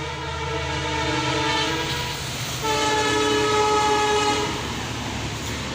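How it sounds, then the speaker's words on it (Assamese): A train rolls past with a sustained horn blast rising and falling over steady rumble and wheel clatter, moderately close, with no talking. "ট্ৰেইন যাই আছে"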